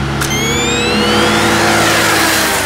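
A KTM 390 Adventure single-cylinder motorcycle engine revs loud and close, its pitch climbing steadily as the throttle opens, one continuous roaring sweep.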